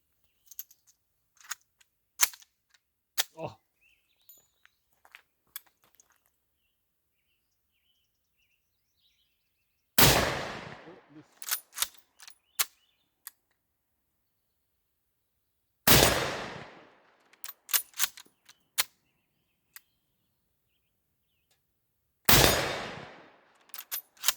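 Mosin Nagant M44 carbine fired outdoors on a hillside range: three loud, sharp rifle shots spaced several seconds apart, each with a rolling echo, among scattered small clicks and handling noises.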